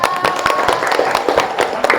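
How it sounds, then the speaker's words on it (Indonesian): Brief burst of classroom applause from students, a dense patter of hand claps close by filling the whole moment at steady loudness. "Tepuk tangan dulu"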